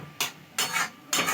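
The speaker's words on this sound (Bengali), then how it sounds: "এবারে নেড়ে নেড়ে শুকনো করে নেব" Chana dal pulao being stirred in a pan over high heat, three quick bursts of spatula scraping through the dry rice, close and fairly loud over a faint sizzle.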